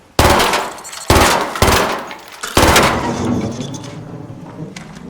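Weapon gunfire in ARC Raiders, three loud close shots about a second apart, each with a sharp crack and a ringing tail, the last tail fading slowly.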